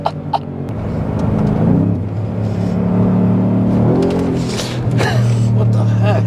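A Ford Raptor R engine revs briefly at quarter throttle, a deep, steady rumble swelling and settling up close, with brief voice sounds over it.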